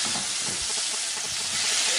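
Onions and chilies sautéing in a hot pan, a steady close hiss and sizzle with faint scraping from stirring, continuous and even throughout.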